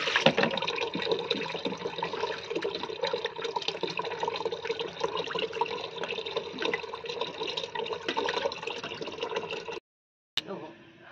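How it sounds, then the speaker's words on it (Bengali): Big bhola fish are rinsed in water for a Bengali village-style curry, a steady running, splashing wash with faucet-like flow that fills most of the stretch before a sudden cutoff near the end. "চলো মাছগুলো এখন ধুয়ে নিই।"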